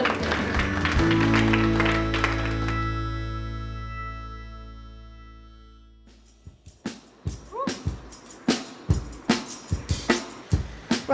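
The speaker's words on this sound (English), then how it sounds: "Round of applause for the both." Scattered applause from an audience at a Welsh town project presentation, a few separate claps gradually picking up after a sustained electronic music tone fades away.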